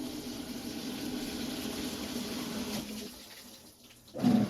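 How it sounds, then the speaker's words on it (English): Steady rush of water pouring through the hot water valve into a Samsung top-load washer in test mode for about three seconds, then it cuts off, leaving a quieter hiss and a brief louder burst at the end. "And then they enter the hot water valve test cycle."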